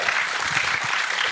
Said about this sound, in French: Applaudissez-la pour ça!